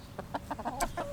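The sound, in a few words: chickens clucking in the garden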